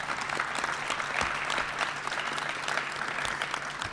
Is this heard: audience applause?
yes